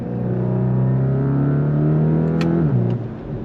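A Volkswagen T-Roc R with a 300-horsepower engine and DSG gearbox runs in race mode with its exhaust flaps open, giving a loud, steady rising engine drone that holds close by, then drops in pitch with a quick shift.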